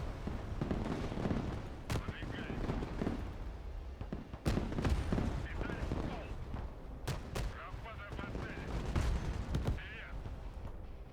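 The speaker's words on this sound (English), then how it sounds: "They got artillery too." Artillery and gunfire in the modern warfare video game Broken Arrow, several sharp booming reports spaced a few seconds apart over a dense rumbling battle din, with a voice talking throughout.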